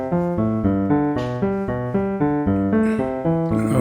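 A piano arpeggio played back in Cubase, heard as a steady, even run of repeating broken-chord notes cycling through a pattern, clear and alone.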